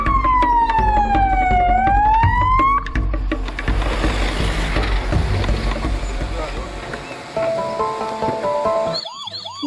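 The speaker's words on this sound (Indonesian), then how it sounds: "di sini mobil ambulans" A toy ambulance siren wails loudly and close, its pitch sweeping down and then back up, followed by a dense jumble of electronic toy sounds and chirping tones, with a brief gap near the end.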